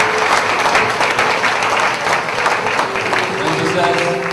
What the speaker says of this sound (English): And we give a mighty clap to you